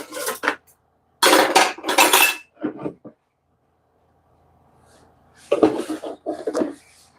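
Dishes and pots being stacked in a home kitchen, heard as a few loud clattering bursts of crockery and metal clinks close by, separated by short quiet gaps.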